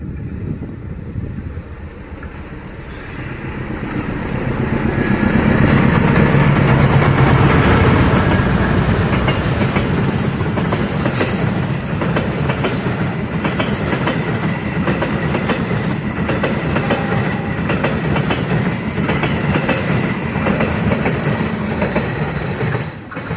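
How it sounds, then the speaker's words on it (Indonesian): Papandayan passenger train running through Wanaraja station without stopping, a loud close rumble with rhythmic clickety-clack of wheels on rail joints that builds and continues steadily for the whole pass. "Inilah dia kereta api Pemandayan, relasi dari stasiun Garut tujuan akhir stasiun Gambir akan melintas langsung di stasiun"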